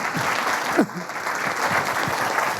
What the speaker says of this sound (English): let's give Karl a big round of applause